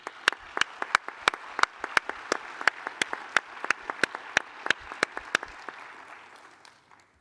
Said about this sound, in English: I think you deserve all a great round of applause.